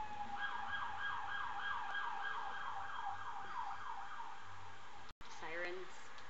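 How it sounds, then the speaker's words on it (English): A wailing emergency vehicle siren sweeps up and down in a fast, regular cycle, heard faint and at some distance, then cuts off abruptly into a brief burst of other noise. "sirens."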